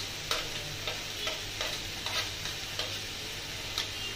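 Potato and chopped green chili stirred in a pan for a banana flower chop, a steady low sizzle broken by regular light scrapes and taps of the spatula, about one every half second.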